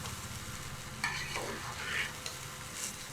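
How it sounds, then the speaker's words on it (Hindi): Rice stirred gently while frying for Kabuli pulao, a soft continuous sizzle with faint scraping strokes of a spoon in the pan. "बहुत तेज़ हमें नहीं चलाना है, बिल्कुल हल्के हल्के चलाना है, ताकि ये चावल टूटे भी नहीं।"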